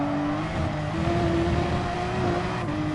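A race car engine held at full throttle in Gran Turismo Sport, a steady high-pitched drone with a slight pitch shift partway through, loud and continuous with no talk.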